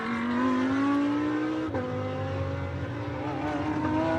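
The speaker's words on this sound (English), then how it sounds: "Mutso there in the red Ferrari" GT race cars, including a red Ferrari, at Circuit of the Americas during a GT America race: loud sustained engine whine with gear changes and a rising pitch, heard near and continuous with no talk over it.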